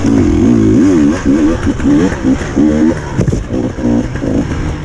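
Motocross motorcycles race through a wooded section at Hawkstone Park, their engines loud and close, revving up and down in repeated bursts as they pass.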